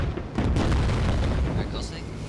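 Artillery smoke barrage thuds and booms in the military shooter game Squad, a dense, loud rumble of impacts with some voice underneath.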